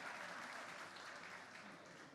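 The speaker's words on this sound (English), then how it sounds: "So one, please, applause for Andre." Steady applause from an audience, a dense wash of clapping that holds evenly for a couple of seconds.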